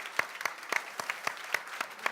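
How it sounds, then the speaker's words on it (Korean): A studio audience claps through the whole stretch, a brisk and even applause with distinct sharp claps that stay near and fairly loud, and no voices are heard. "박수 한번 좀 부탁드리겠습니다."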